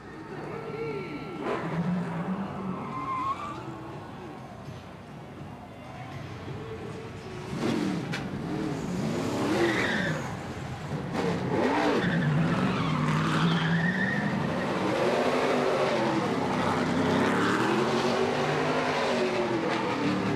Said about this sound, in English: Watch them both bounce off the wall as we ride on with Dale Quarterly.